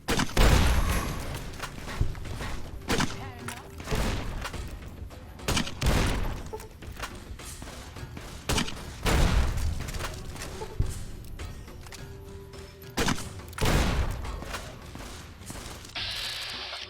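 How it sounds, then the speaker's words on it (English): Hunting shotgun firing in Fallout: New Vegas, several loud sharp blasts spaced irregularly over a busy game soundscape, each followed by a brief decay. "Hunting shotgun."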